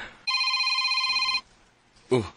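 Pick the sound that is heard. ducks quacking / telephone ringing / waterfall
telephone ringing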